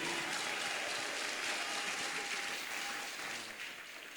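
A church congregation applauds and cheers during a sermon, a steady, loud wash of clapping that holds for several seconds before tapering slightly at the end.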